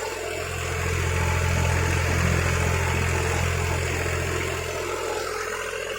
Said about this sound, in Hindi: ये हाई लो मीडियम वाला ट्रैक्टर है